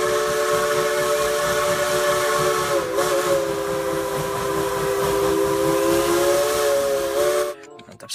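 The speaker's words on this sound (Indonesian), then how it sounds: "yang ini ada kereta Thomas teman-teman" A toy Thomas train sounds its steam whistle as a loud, sustained multi-tone whistle over a hissing steam effect, dipping briefly midway and then cutting off abruptly near the end.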